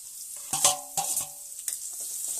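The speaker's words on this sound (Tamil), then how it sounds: "நல்லா கோல்டன் கலரில் வர மாதிரி வதக்க போகிறோம்" Chopped small onions sautéing in oil for a chicken gravy, a soft sizzle broken by a few sharp stirring scrapes against the pan, close and fairly quiet.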